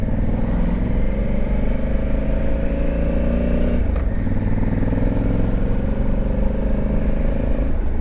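Motorcycle engine pulling away in first gear, loud and steady with a rising engine note, a brief shift-like dip midway, heard close up from the rider's position with wind rumble and no talk.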